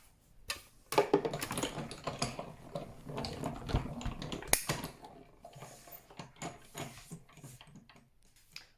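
A die-cutting machine cutting a white Christmas bauble shape from card: a continuous mechanical rattle and clicking grind with rhythmic ticks, close and moderately loud, easing off toward the end, with no speech.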